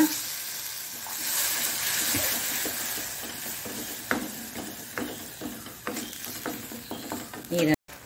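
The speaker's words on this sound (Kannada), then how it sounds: "ಆಗ ಸ್ವಲ್ಪ ಒಂದು ಅರ್ಧ ಲೋಟದಷ್ಟು ನೀರನ್ನು ಹಾಕೊಳ್ಳೋಣ." Egg masala frying in a pan, with a broad steady sizzle that shifts as water is poured in, followed by spoon stirring and a few scraping knocks near the end.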